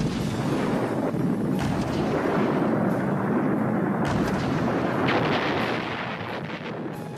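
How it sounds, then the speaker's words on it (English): Heavy World War I howitzers, the Big Bertha type, fire in a continuous rumbling barrage of booms and blasts, dense and loud throughout with no voices. "Heavy howitzers called Big Berthas blew towns to smithereens."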